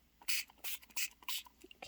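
A Distress Oxide ink spray bottle spraying poorly, giving a few short, uneven close hissing spritzes in quick succession, faint and sputtering.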